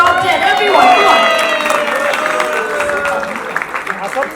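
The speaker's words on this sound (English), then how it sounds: "Can we have a huge round of applause for Oppo and the top 10?" A crowd at a phone unboxing event aboard a flight applauds in a loud burst of dense clapping that slowly thins out, with voices and cheers mixed in.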